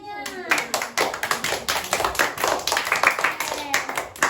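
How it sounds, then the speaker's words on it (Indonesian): A classroom of students claps during a microteaching lesson, sharp, uneven hand claps close by, with children's voices chattering over and between them. "Tepuk tangan buat semuanya."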